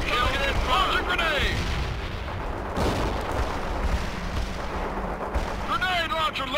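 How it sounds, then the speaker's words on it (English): A grenade launcher fires amid battle in the video game World in Conflict, heavy booming blasts and rumbling explosions over dense combat noise with whistling shell sounds, loud and continuous, under radio voices. "Activating grenade launcher, sir."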